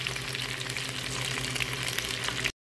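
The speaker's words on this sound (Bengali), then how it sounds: "আলু এবং ডিমটাও ভেজে প্লেটে উঠিয়ে নিব।" Potatoes and eggs frying in mustard oil in a pan, giving a constant close bubbling sizzle with a faint hum underneath, then the sound cuts out abruptly just before the end.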